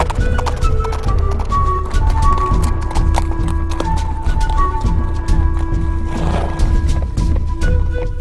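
Wild Sumba horses at a traditional capture event gallop in a loud, dense clatter of hooves, with neighs and shouted crowd noise mixed in throughout.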